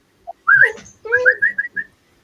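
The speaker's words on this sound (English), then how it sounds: "Come on, who's got a good whistle?" A person whistles a short, bright tune. There is a brief opening note, then a rising phrase, then several quick chirpy notes in a row. The whistling is clear and close, with no talking.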